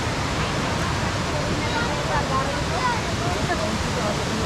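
A waterfall at Izu Seven Waterfalls gives off a steady, broad rushing roar that fills the scene without pause and sounds fairly near.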